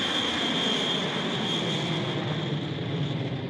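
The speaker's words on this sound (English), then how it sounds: "they board her invisible plane, and the platform rises to the surface just in time for them to see Brunhilde's plane take off" A propeller plane takes off in an audio drama sound effect, its steady engine roar and high whine filling the scene evenly from start to finish with no voices.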